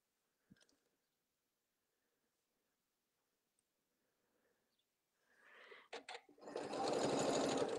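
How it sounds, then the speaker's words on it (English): Sewing machine stitching fabric for a table mat, starting after near silence with a few faint clicks, then a close, steady mechanical whirr that builds and runs to the end. "I'm stitching onto my fabric 1/4 inch away"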